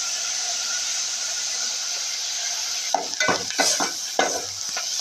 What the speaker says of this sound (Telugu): ఇలా తిప్పుకుంటూ వేగించుకోవాలి.